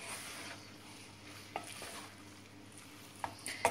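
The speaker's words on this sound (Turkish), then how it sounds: "Şöyle bir karıştıracağım." Buttered walnut egg noodles being stirred in a pan, giving a quiet, steady sizzle with a few soft scrapes and clinks of a utensil against the pan, all close and low in level.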